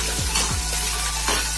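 Shallots and garlic sautéing in a pan for a Tamil sundakkai kulambu, a steady loud sizzle broken by a few scraping stirs of a spoon.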